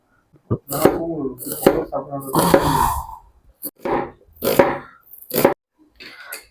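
A kitchen knife chops vegetables on a board in uneven bursts of dull, crisp knocks and clatter, with someone talking now and then between the cuts.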